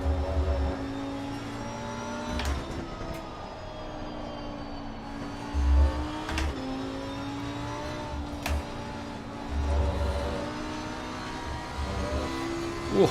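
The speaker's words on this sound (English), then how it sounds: "Can rev this Lambo out quite a bit." A Lamborghini engine in a racing video game revs hard and holds high, droning pitch, with repeated upshifts and blips across the span, loud and close with no voices over it.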